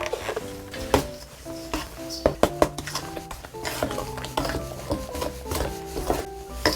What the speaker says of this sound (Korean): 아까 저희가 다져놓은 요 재료 여기다 넣고 섞으시면 돼요.